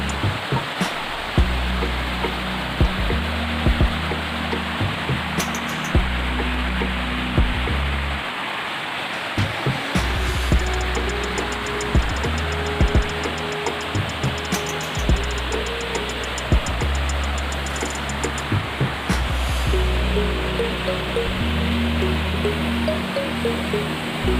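A waterfall swollen by rainy-season flow, Curug Tegalrejo in Gedangsari, Gunungkidul, Yogyakarta, roars as a steady, loud broadband wash with no talk over it throughout.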